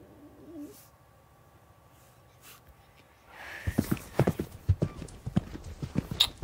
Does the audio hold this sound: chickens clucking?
no